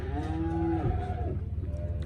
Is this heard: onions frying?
no